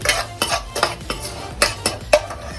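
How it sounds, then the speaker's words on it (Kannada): A spoon stirring chilli powder and salt into oil in a pan for egg curry, about nine sharp metallic clinks and scrapes in an uneven rhythm, close and fairly loud. "ಇವಾಗ ಎಲ್ಲ ಫುಲ್ ಮಿಕ್ಸ್ ಮಾಡ್ಕೊಳ್ಳಿ ಎಣ್ಣೆಯಲ್ಲಿ"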